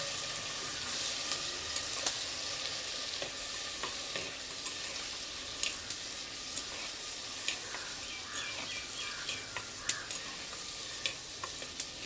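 Onions, tomato, garlic and green chilies sauté in a clay pot with a continuous loud sizzle, broken by occasional clicks and scrapes of stirring, and faint bird chirps in the background.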